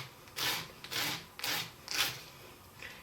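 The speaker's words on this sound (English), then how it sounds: "So now I'm going to get the little file that Potter USA sells." A small file rasps back and forth over the cut edges of a metal earring to smooth away burrs, five short scraping strokes in an even rhythm, close and fairly quiet.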